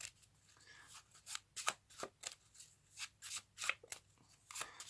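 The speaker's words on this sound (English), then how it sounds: "you can give this pack a shuffle now and lose that card" A pack of playing cards being shuffled on a card mat, a series of crisp riffling bursts in an irregular rhythm, close and quiet.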